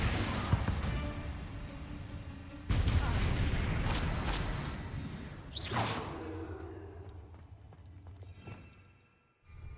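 Spells fire off in Hogwarts Legacy combat: loud whooshing blasts and booming bursts in quick succession, with a sharp impact near the start and a swishing sweep later, fading out at the end.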